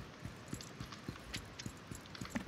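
Horse hooves in the video game Lost Ark, a faint, evenly paced clip-clop of repeated soft thuds at a steady trotting rhythm with no voices.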